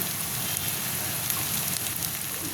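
Small shrimp frying in oil with turmeric, salt and green chillies give off a steady, dense sizzle that carries evenly from start to finish, with no voices.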